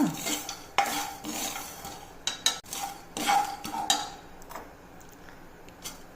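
A spoon stirs sesame seeds dry-roasting in a metal pan alongside roasted peanuts, giving close scraping strokes and light metallic taps in an uneven rhythm with a faint sizzle beneath.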